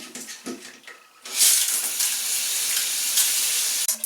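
Tap water runs steadily as a hair brush with leftover shampoo is rinsed off, a loud continuous hiss after a short quieter start with a few faint knocks.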